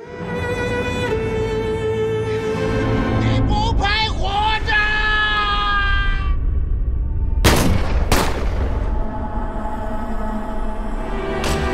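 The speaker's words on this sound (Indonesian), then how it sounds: "polisi berhasil menembak Chang Feng tepat di dadanya" Gunfire in a film scene where police shoot a gangster in the chest, heard as sharp loud bursts partway through over a dense music and effects soundtrack.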